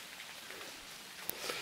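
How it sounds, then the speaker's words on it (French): Rain falls outside around an abandoned house, a soft, continuous patter close by with a sharp drip or tap near the end. "il pleut"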